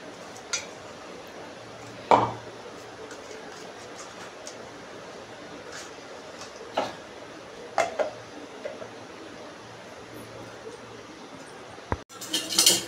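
A spoon scrapes chutney out of a pan into a bowl, giving a few scattered, close clinks and knocks of metal on cookware over quiet kitchen background.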